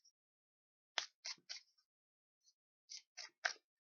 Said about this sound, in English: let's shuffle up the deck